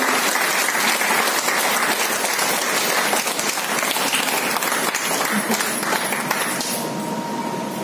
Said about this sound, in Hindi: कम से कम आप ताली बजाइए